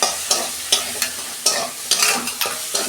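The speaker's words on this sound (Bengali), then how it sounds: "দিয়ে আমি 2 মিনিট ভালো করে কষাবো, আদা রসুনের যতক্ষণ না গন্ধ যায়।" Ginger-garlic paste, a green chili and tomato sautéing in a hot pan, stirred with repeated scraping strokes over a steady sizzle, close and fairly loud, with no voices.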